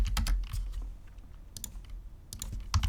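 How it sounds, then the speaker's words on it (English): Bursts of fast keystrokes on a computer keyboard, clustered clicks separated by short pauses, close and clear with no voices. "We're going to type an error here."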